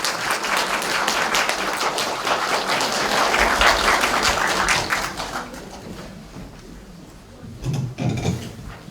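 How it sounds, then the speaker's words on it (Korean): Dense, steady applause from a school auditorium audience at a freshman parent information session as the principal is welcomed, holding strong for several seconds before tapering off to a few scattered claps. "큰 박수로 맞이해주시기 바랍니다"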